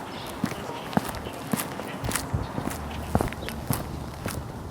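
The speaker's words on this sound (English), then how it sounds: "I use this in a recent vlog for some steps on the ground as I walked by" Footsteps on a street surface pass close by in an irregular walking rhythm, soft scuffing impacts over faint outdoor street noise.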